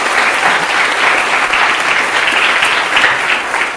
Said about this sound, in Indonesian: Tepuk tangan paling meriah untuk kita semua.